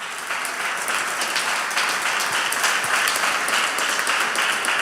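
A church congregation claps loudly for God during a Spanish-language sermon, a steady, dense burst of applause that sounds full and close and carries on without any speech over it.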